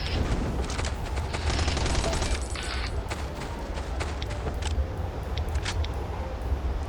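Rapid video game gunfire, sharp shots crackling in quick bursts throughout, with a rumbling backdrop and no voices.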